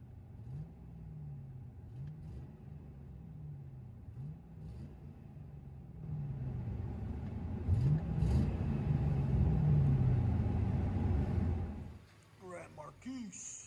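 Mercury Grand Marquis 4.6L V8 with muffler-delete exhaust, heard from inside the cabin: a low rumble pulsing with revs, then swelling into a stronger sustained roar before cutting back, with a voice briefly at the end.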